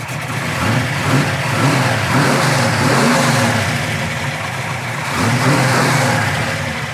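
A 1966 Impala SS with a 396 big-block V8 and a freshly installed carburetor runs close by, loud and steady, rising and falling in gentle revs over a slightly low idle.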